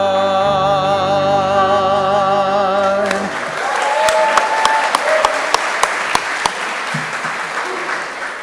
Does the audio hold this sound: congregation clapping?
yes